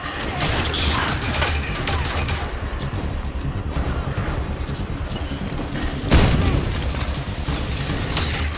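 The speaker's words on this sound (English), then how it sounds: "Mount that turret. I'll man the gun." Turret gunfire in the video game Halo 5: Guardians, a dense, continuous roar of rapid shots and booms up close, with one heavier impact partway through.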